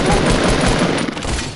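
Continuous, loud, dense gunfire in Fortnite Battle Royale, rapid shots blurring into one sustained roar close by, alone without voices.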